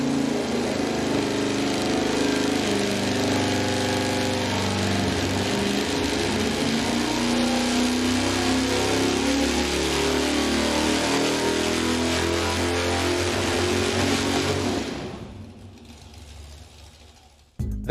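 A race engine roars hard on a dyno, running loud and rough with heavy shaking, a dense sustained drone that holds steady before abruptly dropping off and fading near the end, with no talk.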